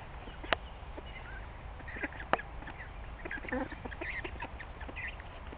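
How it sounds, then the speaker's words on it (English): Ducks eating their feed outdoors give scattered soft quacks and short calls over a low steady background, with a couple of sharper quacks standing out nearby. "Alright, duckies. They're just steady eating"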